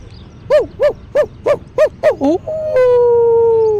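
A person imitates a wild dog, giving six quick rising yelps in a steady rhythm, then a long, sustained howl, loud and close.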